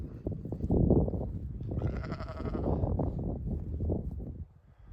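A flock of sheep bleating close by, several overlapping calls running continuously with no pauses.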